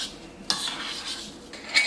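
Brown and white sugar being stirred together in a bowl with a utensil, close-up scraping and clinking against the bowl, with a sharper knock midway and another near the end, no talking.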